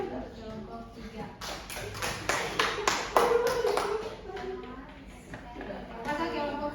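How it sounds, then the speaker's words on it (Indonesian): A classroom claps for group 3, a few seconds of scattered hand claps that swell and then taper off, with voices talking over and after the applause. "berikan aplaus dulu untuk kelompok 3"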